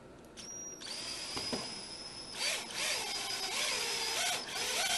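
A drill drives a stainless steel screw into a wooden potato fork handle, giving a close, continuous high whine that rises and dips with a few bursts of added strain, alone with no voices.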